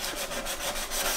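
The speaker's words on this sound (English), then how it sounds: "I'm taking my sanding sponge." Steady rhythmic scraping of a sanding sponge against a wooden bookcase, short back-and-forth strokes repeating evenly and close up.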